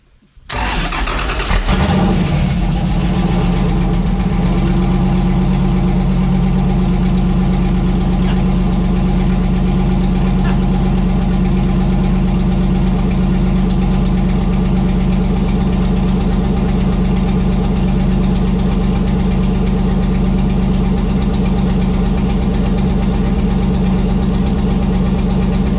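An LS3 V8 swapped into a Porsche 914 fires up with no mufflers fitted, catching with a brief crank and then settling into a loud, steady, lumpy idle that rumbles on close by without pause.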